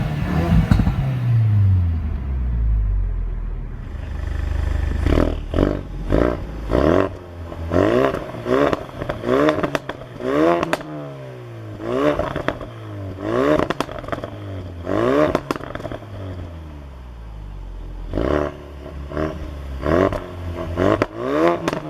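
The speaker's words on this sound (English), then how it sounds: "As you could probably hear, it does pop in normal mode as well, just not as much." A Ford Focus RS in normal drive mode is blipped repeatedly, each rev rising and dropping with sharp crackles and pops from the exhaust, close and loud, in a rhythmic series over about twenty seconds.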